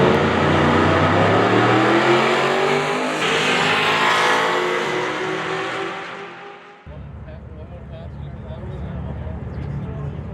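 A drag racing car accelerates down the strip at Bandimere Speedway in Colorado, its roaring engine climbing in pitch, then fading into distance before steady background noise with a voice speaking.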